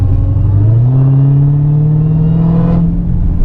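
Dodge Challenger Hellcat with a Legmaker intake, a loud close supercharger whine rising in pitch over a deep engine rumble as the revs climb, then easing off near the end.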